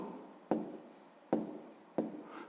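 A pen writing on paper at a school maths lesson, giving three quick, faint scratching strokes at roughly even intervals, close and alone.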